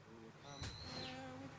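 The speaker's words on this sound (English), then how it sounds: "That bird." A loud bird in Japan calls with a sustained whistled note that slides downward, a short burst near the start and a lower tone trailing after, heard close over a faint background.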